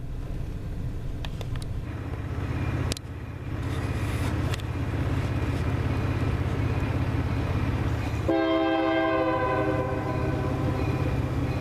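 CN freight train in Ladysmith accelerating away, its deep rumble and rolling wheel noise steady throughout, with a loud horn blast sounding near the end.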